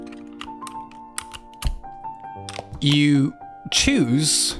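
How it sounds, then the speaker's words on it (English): Custom mechanical keyboard switches click in quick, crisp bursts of taps close by, with a voice speaking briefly over the later part. "The bit that actually makes the keyboard work. The clickety clack or whatever."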